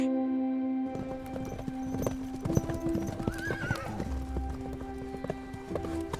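Sumba horses on open savanna in Mamboro, Central Sumba, with steady clip-clop hoofbeats of trotting and a clear neigh midway, fairly close and continuous throughout.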